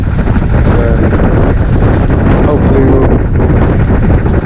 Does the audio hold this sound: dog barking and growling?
no